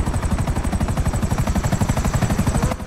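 Rapid automatic gunfire in a video game, a loud, steady stream of evenly spaced shots that continues for nearly three seconds before cutting off abruptly.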